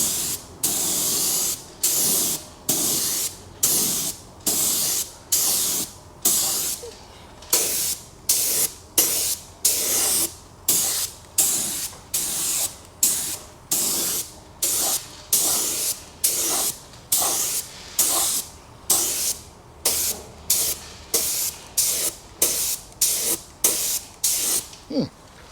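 A spray gun lays a paint coat on a car, producing dozens of evenly spaced hissing bursts, each lasting a second or so and separated by brief gaps, close and loud.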